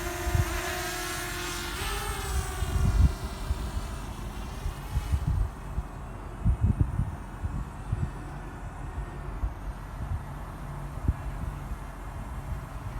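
A DJI Mavic Mini drone flying outdoors, its steady high-pitched propeller whine rising in pitch early on, then settling into a soft continuous hum over light wind rumble.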